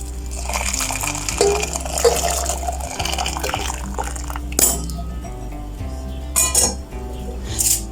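Two and a half glasses of boiled water pour steadily into a pot with a rushing splash, followed by a few sharp metallic clinks of kitchenware.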